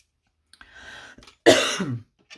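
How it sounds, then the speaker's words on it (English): A single harsh cough bursts out, loud and close, after a stretch of quieter throaty breathing and rasping, with a short sound trailing at the end. "I have a terrible cough."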